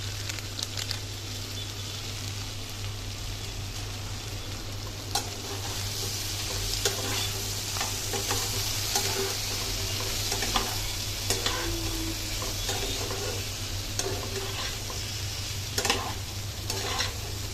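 Taro stolons and grated coconut sauté in a pan over a low gas flame, giving a quiet, steady sizzle broken by repeated scraping and stirring clicks.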